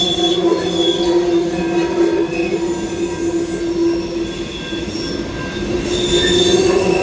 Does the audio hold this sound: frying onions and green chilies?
no